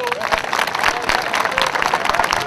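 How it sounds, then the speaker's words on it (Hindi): A large audience applauding for children at a concert, a dense burst of many hands clapping at once, loud and near, with a voice speaking over it. "इन्होंने बच्चों वास्ते ताली मारो"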